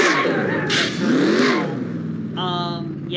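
Race car engine in the NASCAR Racing 2003 video game revving hard during victory burnouts, loud sustained roaring with rising and falling pitch and a high whine near the end, with a voice talking over it.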